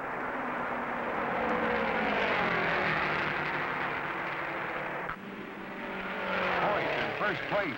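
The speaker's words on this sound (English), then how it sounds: "First place speeds past fourth place Don Branson." A 1964 Indianapolis 500 race car roars past at speed, its engine a loud, sustained drone that rises and falls with Doppler sweeps as cars pass, beneath continuous commentary.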